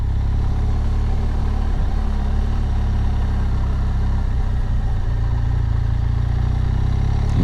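A fully loaded BMW R1200GS Rallye motorcycle rides along a gravel-strewn country lane, its engine a steady, close, low droning rumble without a break.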